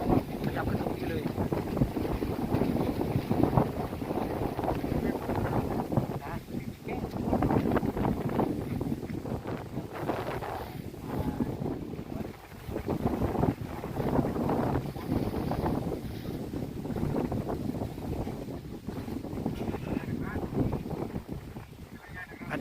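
Strong wind gusts across a roof in a village in Surin, Thailand, roaring steadily as broadband buffeting over the microphone throughout, with some speech mixed in.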